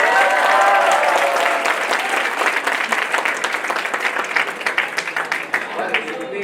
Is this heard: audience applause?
yes